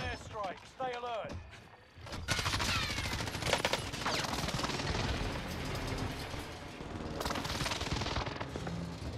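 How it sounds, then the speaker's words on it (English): A precision airstrike in Call of Duty Warzone, sustained heavy blasts and rumbling explosions after a brief lull, with gunfire-like crackle layered throughout and game voice lines over the top. "Enemy precision airstrike."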